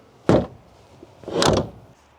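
A Lotus sports car door swings shut twice, a solid thunk followed by a longer, heavier closing sound, both close and clear with quiet pauses between.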